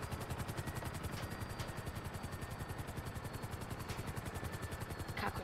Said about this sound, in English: Helicopter's already going down.